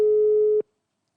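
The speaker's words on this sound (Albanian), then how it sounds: "po bie zilja" A telephone line tone sounds as a call is placed, one steady loud beep lasting about half a second before cutting off to silence.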